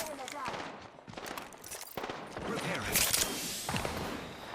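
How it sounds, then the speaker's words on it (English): The Devotion, an automatic weapon in Apex Legends, fires in sustained bursts of rapid shots mixed with other gameplay noise, while a person talks over it. "Trying to control the recoil on the devotion whilst going left to right that much is actually more difficult than I thought"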